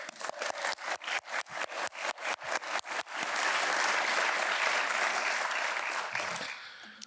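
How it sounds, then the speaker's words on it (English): Audience at a supply chain awards event applauding honorees, opening with a few seconds of single, regular claps before building into dense, sustained applause from many hands, then fading out. "Let's give them a round of applause."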